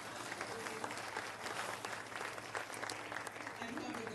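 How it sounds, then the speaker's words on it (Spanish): Sustained crowd applause at the end of a conference panel, honoring the organizers, with continuous dense clapping from many hands heard at a moderate distance, some faint voices mixed beneath. "un aplauso, por favor."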